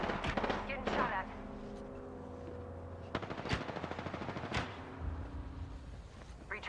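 Gunfire in the video game Apex Legends: sharp bursts of shots crack out in quick clusters over a faint hum of game tones, with quieter gaps between the volleys.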